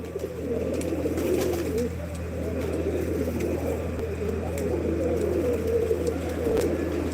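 Pigeons at a rooftop pigeon loft coo softly and continuously in a steady, overlapping murmur, with faint background hum and no speech.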